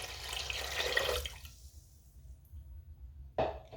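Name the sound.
water poured into pot for boiling lentils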